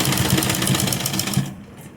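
A sewing machine runs steadily, stitching black lace onto a neck design, its fast mechanical chatter close and continuous before stopping abruptly near the end.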